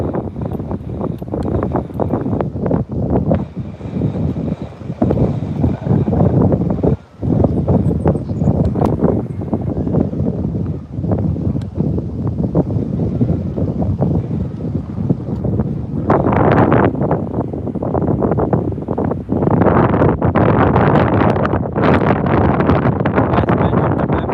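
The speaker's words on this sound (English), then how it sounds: "Windy Vancouver" Strong gusts buffet the microphone at Vancouver Airport for the whole stretch, a loud, rumbling roar that swells and drops with brief lulls.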